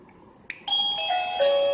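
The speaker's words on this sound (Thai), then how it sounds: "เราก็ทำการเทสดูว่าตัว Wi-Fi Doorbell ตัวนี้เชื่อมต่อกับกระดิ่งไร้สายหรือยังนะครับโดยกดปุ่ม" A Kenpro KP-HD703D Wi-Fi doorbell button is pressed, and a wireless indoor chime rings clearly and alone with a bright, sustained two-tone ding-dong after a soft click.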